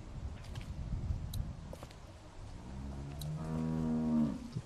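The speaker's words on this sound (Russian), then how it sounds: "How do you like that cow, Clint? She's pretty" A cow moos in The Walking Dead video game, one long low drawn-out call rising to a loud close finish over faint background noise.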